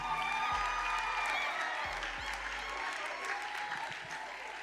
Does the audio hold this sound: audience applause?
yes